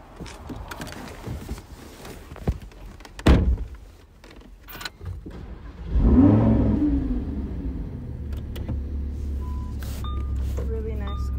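A Toyota Prius car with door thumps and clunks, then an engine hum rising and settling into a steady drive with a few electronic chimes, while people talk nearby.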